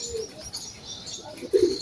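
Pigeons coo softly and flap their wings nearby, with a burst of wing beats near the end over a steady outdoor background.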